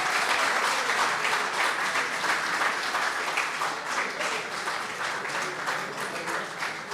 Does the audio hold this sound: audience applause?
yes